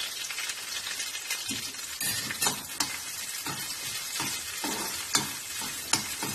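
Chillies roasting in coconut oil in a pan, a steady crackling sizzle with sharp pops and periodic scraping stirs, close and continuous throughout.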